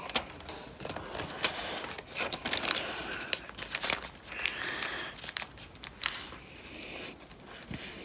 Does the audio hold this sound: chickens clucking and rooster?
no